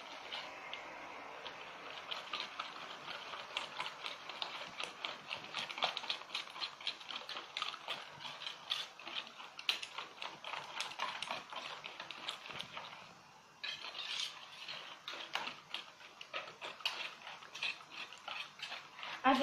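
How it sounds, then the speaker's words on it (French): Sugar and eggs stirred in a bowl with a utensil, a steady run of rapid scraping and clinking strokes, close and continuous throughout. "À peu près 2 minutes, on touille"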